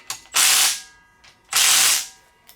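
A ratchet wrench fitted with a Harbor Freight socket tightens bolts during a Mustang timing cover and front-end reassembly, two loud, close bursts of rapid clicking separated by a short pause.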